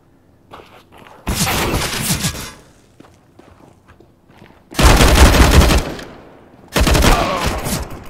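Sniper rifle gunfire in a video game: three loud bursts of shots with sharp reports and reverberating tails, separated by quieter gaps with faint footsteps and movement.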